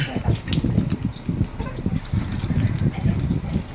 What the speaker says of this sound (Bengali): চলো এবার এক এক করে ডিমের পকোড়াগুলো তেলে ছেড়ে দেব।